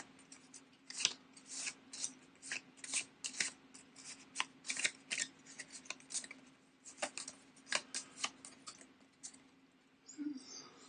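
Close, quiet riffling of a deck of Arkham Horror cards being shuffled, a steady run of crisp papery flicks and snaps over a faint hum, tapering off near the end.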